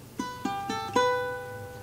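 A short, quiet run of four plucked notes on acoustic guitar, part of a riff played at full speed, with the last note left ringing out alone.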